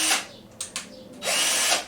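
A Lidl Parkside PBSA 20 Li A1 cordless drill, a brushed 20 V model with a keyless chuck set to drilling, whirs up in several short bursts of whining motor noise and finishes with a longer sustained run, loud and close.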